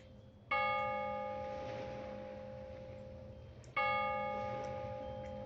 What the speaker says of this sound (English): you start to hear some church bells ringing